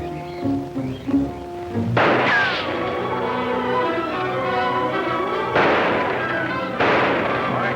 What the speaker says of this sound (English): I'll open up with a barrage from my gun